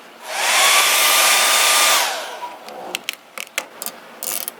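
A heat gun blasts steadily for about two seconds while melting vinyl wrap around the gas cap of a third-generation Toyota Tacoma, then cuts off, followed by scattered clicks, taps and handling noises nearby.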